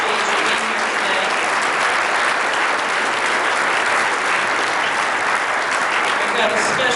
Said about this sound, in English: big round of applause for Colby